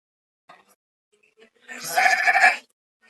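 A single Madgaon cross sheep gives one loud, wavering bleat nearby after a few faint shuffles and small sounds in an otherwise quiet shed.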